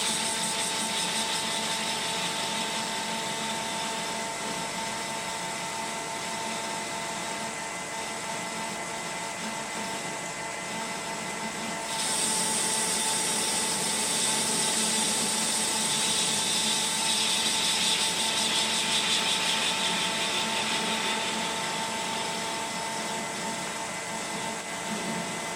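A metal lathe turns down a shoulder on a part for a 2-inch scale Fowler Showman's traction engine, giving a steady, close mechanical hum. A brighter cutting hiss joins midway and continues to the end.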